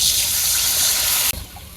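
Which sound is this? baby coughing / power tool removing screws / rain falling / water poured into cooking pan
water poured into cooking pan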